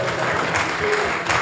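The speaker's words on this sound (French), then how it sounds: "Est-ce qu'on peut l'applaudir?" Listeners at a conference on personal data in the digital age applaud a dean, a steady, close wash of many hands clapping with no pause, a voice faintly audible underneath.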